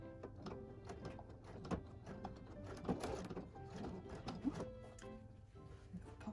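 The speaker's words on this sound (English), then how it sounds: "clip it in place and top stitch with an 1/8 of an inch seam allowance" A sewing machine top stitches a fabric pouch with an eighth-inch seam, giving a steady, busy mechanical whir with small rhythmic knocks, close and moderately quiet, with no talk.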